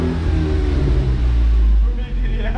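A large-cylinder car engine rumbles and revs loudly and steadily close by, with a brief dip near the end, while people talk over it at a car dealership in Iraq.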